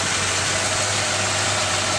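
A Toyota XC GXL car engine with 74,000 km on it idles very quietly and smoothly at close range, a steady low hum with no other sounds.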